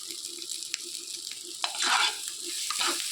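Pointed gourd paste frying in a pan, stirred now and then, giving a soft steady sizzle with faint scraping and a brief louder hiss partway through.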